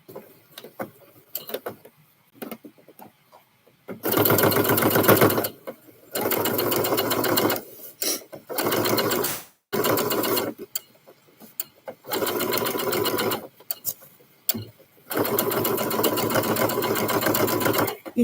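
A sewing machine runs a regular stitch on a scrub top in several loud, close bursts of rapid mechanical whirring, separated by short pauses.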